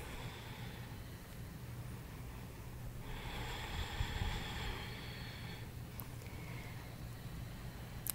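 Ujjayi breathing during yoga practice, a slow ocean-like hiss on the breath with a long, steady rush midway, faint and close with low background hum.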